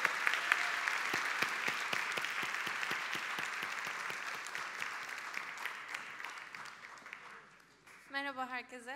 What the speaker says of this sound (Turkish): Ödülünü almak üzere yine kıymetli alkışlarınızı rica edeceğim